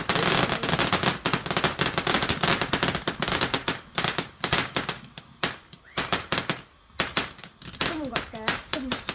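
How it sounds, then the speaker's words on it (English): Bonfire night fireworks crackle and pop in rapid irregular bursts, loud and dense at first, then thinning to scattered bangs, with people exclaiming and talking among them. "They're basically just fireworks"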